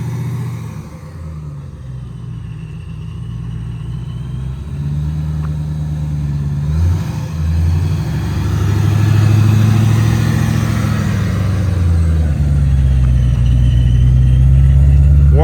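A car engine warming up, a steady low rumble that swells and revs upward partway through before holding at a higher, louder drone.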